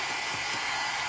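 A hair dryer standing in for a heat tool blows a steady, loud rush of air to dry paint, a constant broadband whoosh that never changes through the short stretch, with no voices.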